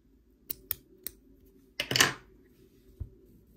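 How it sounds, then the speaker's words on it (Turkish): Scissors snip crochet yarn on a handmade table runner: a few quick, sharp clicks, then a denser cutting burst, close and fairly quiet with no talking. "Burada artık ipimi kesiyorum"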